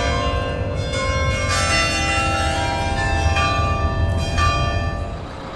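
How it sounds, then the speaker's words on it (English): Church bells ring in the morning in Guimaraes, Portugal, with several bright strikes and long ringing tones that overlap above a low background rumble, moderately loud and without voices. "The church bells are ringing."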